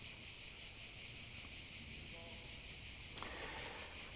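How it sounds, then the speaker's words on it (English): Cicadas buzz in a constant, high, shrill drone outdoors in the Castello district of Venice, steady and fairly loud, with faint rustling beneath. "You can probably hear the cicadas."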